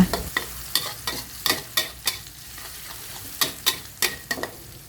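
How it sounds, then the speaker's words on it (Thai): Chopped chilies and garlic stir-fried over high heat, with a rhythmic run of brisk, loud spatula scrapes and clacks against the pan over a constant sizzle, close up and with no voices. "ผัดจนกระเทียมเหลืองมีกลิ่นหอม ใช้ไฟแรงในการผัดได้เลยนะคะ"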